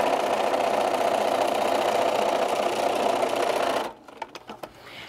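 Sewing machine running steadily as it stitches the bottom seam of outer fabric bag panels, a loud continuous motor whir that stops abruptly near the end, followed by a few faint clicks and handling sounds.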